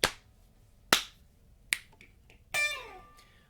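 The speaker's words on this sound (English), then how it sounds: "This part goes pat, clap, snap, woo!" Body percussion in a sequence: a sharp pat, a clap, a crisp finger snap, then a short vocal "woo" whoop, each separated by brief silence, close and clear.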